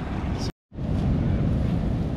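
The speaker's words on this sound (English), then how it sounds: "We're getting some of the highest waves we've had so far." High surf breaks on a Washington beach past high tide, a loud, roaring wash with heavy wind buffeting the microphone and a brief dropout partway through.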